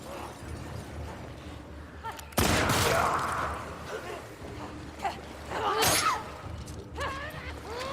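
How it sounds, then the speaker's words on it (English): Gunfire from a companion's gun in The Last of Us Part II: a loud, sharp burst of shots cuts in near the start, then a second burst a few seconds later, both over a low ambient background. "Why are you shooting your gun right now?"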